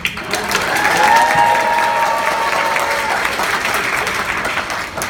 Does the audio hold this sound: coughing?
no